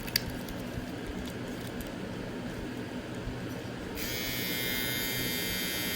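A Solong EM156-7 rotary tattoo pen fitted with a mag shader cartridge hums with a quiet, steady buzz. It grows slightly louder and brighter partway through and keeps running without pause.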